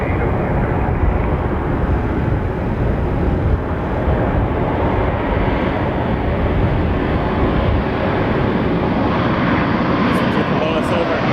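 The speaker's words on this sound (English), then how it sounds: "We got a heavy coming in. American 352 from Charlotte. 777-200." An American Airlines Boeing 777-200 heavy, arriving from Charlotte, lands on runway 24 left at Los Angeles International Airport. It makes a loud, steady jet roar that stays close and continuous throughout.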